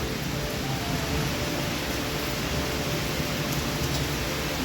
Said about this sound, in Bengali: ঝমঝম করে বৃষ্টি পড়ছে দেখেছো এই দেখো কেমন বৃষ্টি হচ্ছে